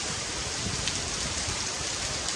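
Steady hiss of rain falling, an even, continuous wash of noise with no voices.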